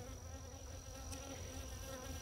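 Honey bees drone steadily around an open hive during hive repair outdoors, a constant close buzzing with no talk.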